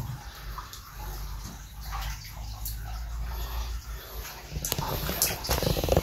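Water runs steadily through a cave, a continuous rushing and splashing flow close by, with faint voices and a few clicks over it near the end.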